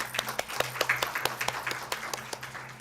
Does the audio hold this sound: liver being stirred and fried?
no